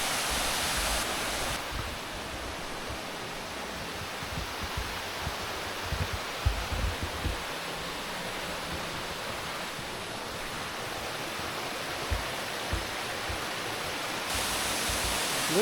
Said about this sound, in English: This is Current Falls.